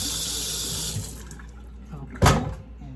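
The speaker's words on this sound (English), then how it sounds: "Get the seeds out of it. Rinse it out real good." Tap water runs into a kitchen sink as green pepper halves are rinsed out, a steady close wash of water over a low room hum, swelling into a brief louder splash near the end.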